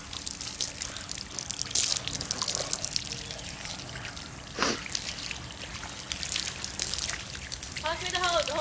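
Garden hose spraying water into mud outdoors, a steady trickling, splashing wash running throughout, with children talking and laughing over it.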